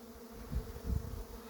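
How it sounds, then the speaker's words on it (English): Honey bees buzz low and steady around an open hive box in an outdoor apiary, swelling in two soft surges, fairly close and with no talking. "Yep, just as I suspected, that one's full of bees"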